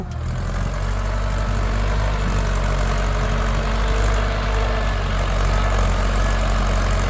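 A Ford 7600 tractor engine running loud and close, a heavy low rumbling drone that holds steady throughout.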